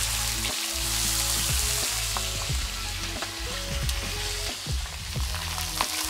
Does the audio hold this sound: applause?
no